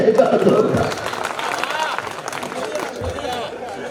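An audience at a kavi sammelan poetry gathering applauds in a strong opening burst of claps, which then fades to a lighter patter beneath crowd murmur and a speaking voice.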